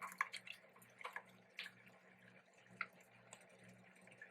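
Liquid pours through a folded strainer into a bowl, a faint close trickle broken by small irregular drips and splashes.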